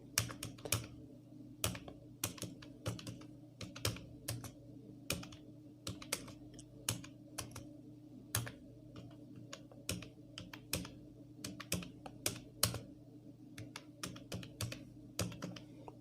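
Keys clatter on a computer keyboard as someone types HTML code and a sentence, with irregular quiet clicks and short bursts spread over about sixteen seconds with no talking.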